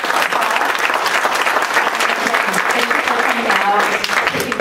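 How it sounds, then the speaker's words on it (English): A conference audience claps warmly for two panel speakers, dense, loud applause that continues steadily throughout. "Let's give them a warm applause."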